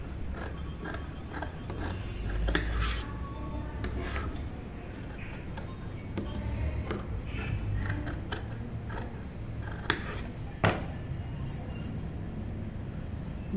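Scissors cutting the sleeve of a dress from fabric, soft repeated snipping and sliding clicks close by at low level with scattered sharper snaps, quiet handling noise between cuts.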